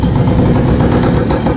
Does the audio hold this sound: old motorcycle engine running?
yes